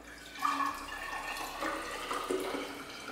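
Liquid ingredients for lemon iced tea, including lemon juice, pour steadily into a vessel, a continuous close watery splash and trickle with no voices.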